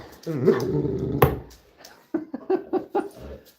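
A dog growls while playing and chasing her tail, giving a sustained rumbling growl followed by a quick series of short, clipped growls and yips close by.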